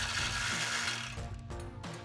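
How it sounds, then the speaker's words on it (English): A 21 mm ratchet turns out a front upper control arm bolt on a RAM 1500: fast, continuous clicking of the pawl, loud and close, with the rhythm breaking into a few slower clicks near the end. "now we're gonna switch to a 21 mil ratchet so we can get this out faster"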